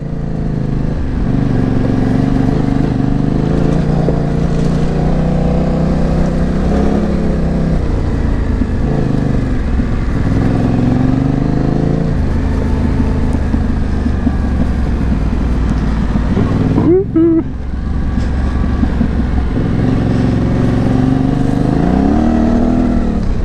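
A Yamaha Tenere 700 adventure motorcycle rides a forest trail, its engine droning loud and continuous with shifting revs and gear changes and a brief dip partway through.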